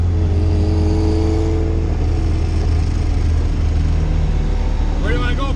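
A turbocharged Honda Civic with a B20 VTEC engine drones loudly and steadily from inside the cabin on the street before a race, a constant heavy engine rumble with people talking over it.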